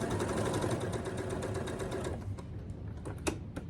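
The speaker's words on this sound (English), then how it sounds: "that's where I'm gonna start sewing. Do a little back tack there." A Handi Quilter longarm quilting machine stitches a back tack while sewing a tote bag, giving a rapid, steady mechanical needle chatter that slows into a few separate clicks and taps at the end.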